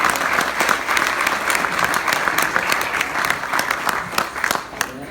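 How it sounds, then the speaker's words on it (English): Warm applause from a gathered audience at a memorial for a family, steady clapping filling the room for about five seconds with a few brief voices mixed in. "Can we give a round of applause to the Spina family?"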